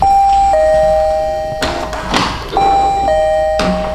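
A fingerprint-operated doorbell at a seaside villa in Bodrum rings with a loud, close two-tone electronic chime that repeats twice, with soft thumps and taps between the rings.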